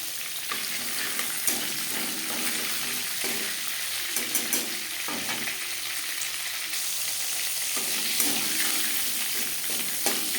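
A bay leaf and panch phoron frying in oil in a wok used to fry fish, making a steady close sizzle broken by intermittent stirring scrapes and light crackles, with no one talking.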